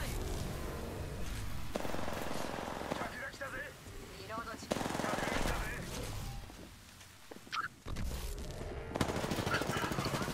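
Video game gunfight with rapid automatic gunfire in dense bursts, loud and close, and occasional crashes, all under continuous talking.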